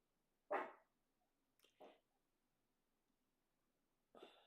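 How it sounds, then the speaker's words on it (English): A dog gives a few sharp, separate barks nearby, one loud bark followed by two quicker softer ones and a final bark after a pause, with quiet in between. "This damn dog."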